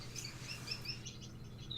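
Gouldian finches chirping and twittering in an aviary, a steady run of small high tweets and short calls at moderate distance over a low background hum, with no talk.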